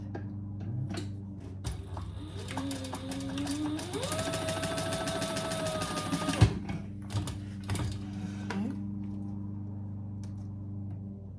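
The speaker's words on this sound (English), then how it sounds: "Turn it over and stitch underneath that last card slot" A sewing machine stitches a fabric purse underneath its last card slot pocket, running in one steady, close, mechanical whir for about four seconds over a low background hum, with brief handling clicks before and after.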